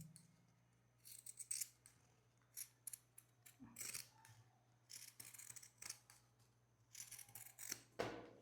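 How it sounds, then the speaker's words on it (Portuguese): Pinking shears snip through fabric for a handmade cloth doll. The close, crisp cuts come in uneven bursts with short pauses between them, over a faint steady hum. "A tesoura de picote facilita muito, mas dá para fazer na tesoura comum também."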